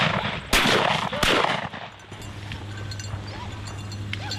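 Two loud shotgun blasts go off close together during a bird hunt, each a sharp crack with a rolling tail. A steady low hum and faint outdoor noise follow.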